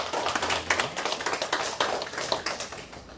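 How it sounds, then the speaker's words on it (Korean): A church congregation claps together in a quick, uneven patter of many hands, the sharp claps coming close and crisp for about three seconds with no talking over them. "우리 축복의 박수 하시겠습니다"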